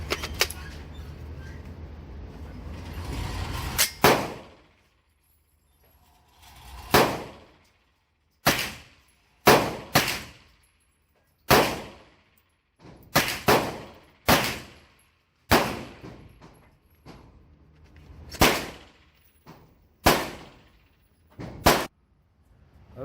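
Remington rounds fired at 25 yards crack out as a string of sharp, loud gunshots, single and in quick pairs, each decaying into brief silence, spread over about twenty seconds.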